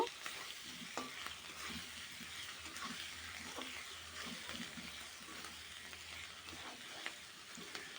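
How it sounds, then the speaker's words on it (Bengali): Ginger paste fries in hot oil in a pan, a quiet continuous sizzle with faint occasional stirring, heard close and steady with no talk. "এরপর আমি এই যে তেলটা মাঝখানে দেখা যাচ্ছে ওর ভিতরে আমি দিয়ে দেব আদা বাটা আদা বাটাটাকে ভালো করে আমি কষিয়ে নেব"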